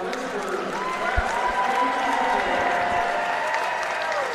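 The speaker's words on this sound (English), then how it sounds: "Let's have one more round of applause for our Lynchburg class" A swim meet crowd at a Roanoke College versus Lynchburg meet applauds the Lynchburg class, a loud, continuous wall of clapping echoing through an indoor pool hall with faint cheering mixed in.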